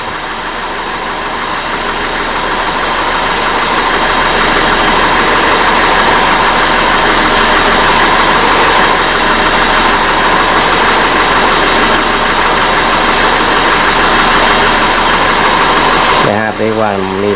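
An Audi Q5 engine with a misfire fault idles steadily under a hood. The rough mechanical drone is loud and constant with a slight knocking undertone, then shifts abruptly near the end.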